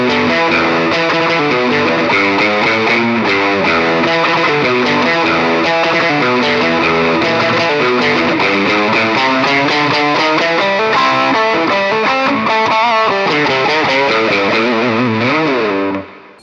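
A heavily distorted Passion BPS-RG270 electric guitar plays a continuous sustained passage, thick, loud and compressed, with chords and notes ringing together throughout before cutting off at the end.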